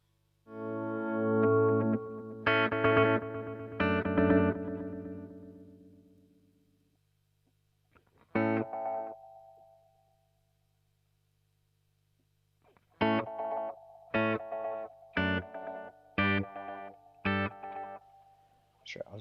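Electric guitar phrases run through a Fractal FX8 multi delay with the repeats' high cut turned far down, leaving darker echoes after sustained chords and a later run of short staccato stabs, separated by silences, with no voices.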